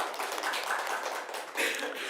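An audience claps together at a Mangal Aarti lecture in Vrindavan, a steady wash of many hands applauding for a couple of seconds with a brief dip and a renewed burst near the end.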